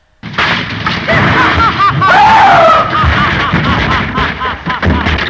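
A man's loud, strained scream rises over a dense, noisy movie soundtrack with booming crashes and effects throughout.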